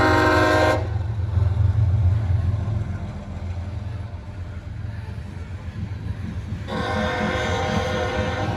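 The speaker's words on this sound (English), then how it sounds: "We got a coal train coming." A long CSX coal train rumbles steadily past close by, with a horn blast at the start and again near the end over the continuous roll of the cars.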